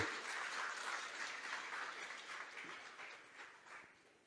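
A church congregation applauding at a worship service, a dense steady wash of many hands clapping that slowly fades toward the end, with no voices over it.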